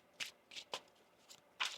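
Tarot cards being shuffled by hand, a handful of brief papery riffling bursts spaced irregularly with quiet gaps between them, close and fairly soft.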